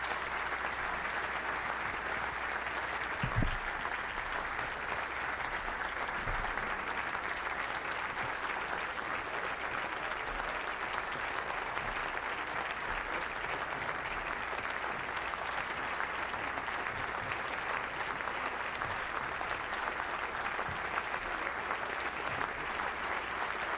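Sustained audience applause welcoming candidates onto the stage at a 2016 Republican presidential forum, a steady dense roar of many hands clapping continuously throughout with no speech over it.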